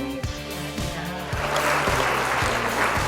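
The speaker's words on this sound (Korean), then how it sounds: "큰 박수로 환영해 주시기 바랍니다" Applause welcoming a presenter at a business meeting rises from midway and replaces a fading musical sting, then holds as a steady wash of clapping from the crowd.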